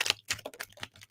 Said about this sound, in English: I have so many cards in this deck, it's like hard to shuffle